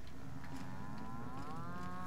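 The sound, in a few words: cows mooing, from video game The Outer Worlds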